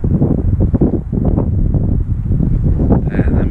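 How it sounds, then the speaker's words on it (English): Strong wind buffets the microphone outdoors beside a fire, a loud, continuous low rumble with irregular gusting bursts throughout. "I know it's windy here"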